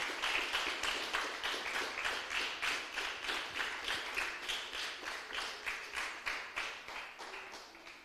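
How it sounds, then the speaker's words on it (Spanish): A church congregation claps for the Lord in a strong, regular rhythm, the beats evenly spaced and sustained for several seconds, sounding somewhat distant and soft. "Den un fuerte aplauso al Señor"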